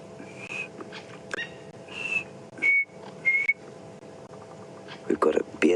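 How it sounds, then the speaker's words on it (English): Batis bird calling in the African bush at sunrise, several short clear whistled notes spaced apart over faint background birdsong, with a few other chirps near the end. "So we've got a batis going."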